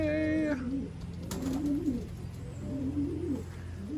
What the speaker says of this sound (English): We got some birds outside on the landing board.